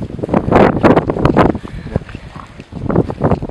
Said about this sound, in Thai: บนนี้ลมค่อนข้างแรงนิดนึงฮะ